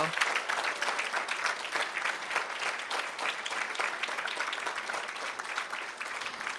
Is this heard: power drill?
no